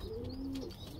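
A pigeon coos in a soft, low, drawn-out call, close and clear against faint background noise, with no talking.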